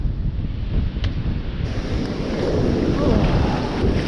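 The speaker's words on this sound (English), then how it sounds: "Don't turn your back on the waves when they're like that." Ocean waves breaking on a beach during a fishing session, a continuous surging roar that swells louder toward the end, mixed with gusty wind buffeting the microphone.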